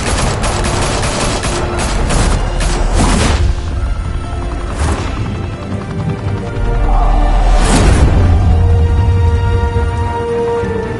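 Rapid bursts of loud gunfire from the Batman video game crack out in a volley of sharp shots, followed by scattered single blasts over a heavy, rumbling background.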